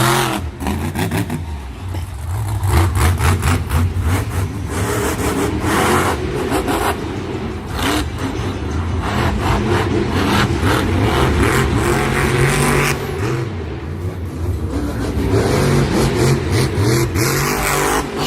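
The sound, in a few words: Bakugan Dragonoid monster truck engine revving at Monster Jam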